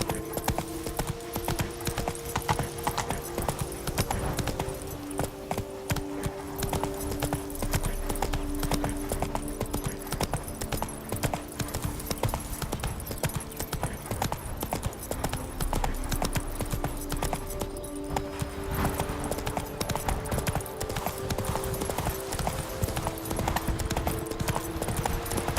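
Horse hooves galloping in The Witcher 3 video game, a fast continuous clip-clop rhythm held throughout at steady volume, with faint game sounds beneath.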